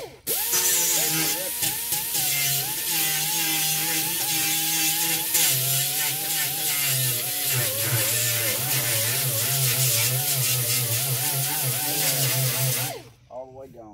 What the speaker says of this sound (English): So I'm going to grind these spots.